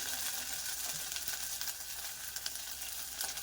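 Ginger garlic paste frying in a pan over low heat, giving a steady close crackling sizzle throughout with a few faint clicks and no voices.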